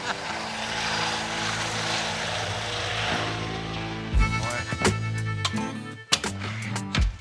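A police helicopter flies over a rural cannabis-growing community, its rotor and engine a loud, steady drone for about four seconds before the sound gives way to other noise.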